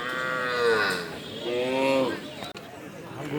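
Cattle mooing at the Chhaygaon cattle market, several long drawn-out lowing calls in overlapping succession, loud and close amid a busy background murmur.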